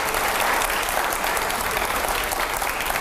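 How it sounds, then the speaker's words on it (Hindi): A studio audience on a Hindi TV debate show on TV9 claps in a brief, dense burst of steady applause with no other sound standing out. "जोरदार तालियां हो जाए जरा"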